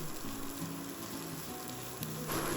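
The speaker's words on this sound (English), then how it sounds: "Crank the heat to high and stir fry for just 30 to 40 seconds" Strips of green and red bell pepper sizzle steadily in a hot wok over high heat, a continuous close crackling fry that swells briefly near the end as they are tossed.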